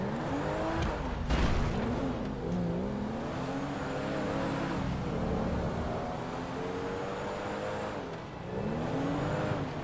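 A sports car in the GTA V video game is driven at full speed, with a loud, steady engine drone whose whining pitch wavers with gear and throttle changes, plus brief bursts of tire and impact noise.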